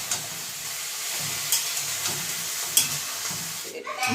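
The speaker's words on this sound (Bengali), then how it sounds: "এইবার পাঁচ মেশালি কাটা সবজিটা কড়াইয়ের মধ্যে দিয়ে দিচ্ছি তারপর সবজিটা খুন্তি দিয়ে ভালো করে নেড়ে নিচ্ছি যাতে সবজিটা ভাজা হয়ে যায়" Mixed vegetables are stirred in a wok with a spatula, giving a steady close sizzle with scraping strokes and a few sharp clinks, and no one speaks.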